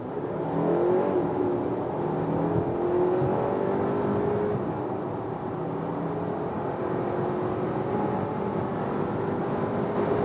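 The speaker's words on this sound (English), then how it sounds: "PHEV from 50 kilometers an hour," An Audi Q5 Sportback 50 TFSIe plug-in hybrid accelerates hard from 50 km/h. A steady engine drone with rising whir and road rumble is heard from inside the cabin over about ten seconds, with no talking.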